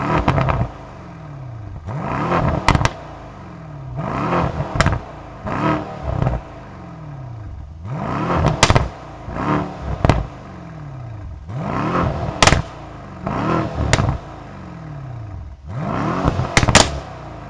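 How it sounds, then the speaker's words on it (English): A 2018 Mercedes-AMG S63 Coupe with an AMG performance exhaust revs in a run of sharp, separate blips, each rising and falling away with pops and crackles between them, loud and close with no talking. "it sounds glorious connected to an AMG performance exhaust"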